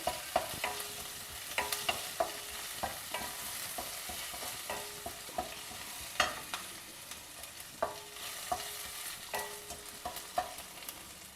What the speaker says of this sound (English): Dry roast this semolina lightly